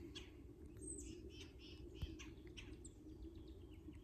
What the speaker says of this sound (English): But you hear the birds